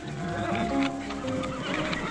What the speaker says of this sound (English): You listen to horse.